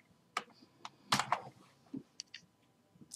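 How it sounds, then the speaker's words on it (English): Keys on a computer keyboard tapped in short scattered bursts, a quick cluster of clicks then isolated presses, close and moderately loud with no voices. "I hate when I'm freaking typing something and it just doesn't go through"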